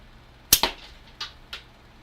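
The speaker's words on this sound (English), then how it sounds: "I was just about to shoot the disc to make sure." A gunshot aimed at a moving disc target rings out as one sharp crack with a quick second report close behind, then two fainter cracks follow in a short, irregular sequence.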